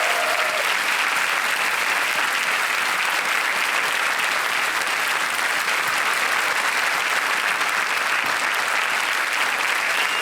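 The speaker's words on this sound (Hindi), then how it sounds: "जोरदार तालियां बज जाएं उनके लिए।" A studio audience on the set of the game show Kaun Banega Crorepati bursts into loud, sustained applause, dense steady clapping filling the whole stretch without letup.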